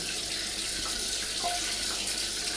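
Water sprinkled lightly over a perforated cloth for shaping jangiri batter, a steady close wash of trickling, splashing water with no voices.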